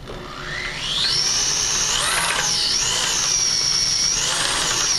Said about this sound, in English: Now, when you're stirring this time, you got to be real careful because it's full, not to let it go over the top